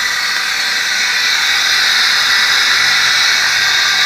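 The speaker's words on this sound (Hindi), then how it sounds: "पौन हॉर्स पावर का पंप है" A three-quarter horsepower water pump on an aquaculture tank system runs with a loud, steady hissing rush that stays constant for the whole stretch, close by and without talk.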